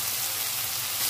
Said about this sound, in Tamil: இப்போ தக்காளி போட்டு நல்லா வதக்கணும்.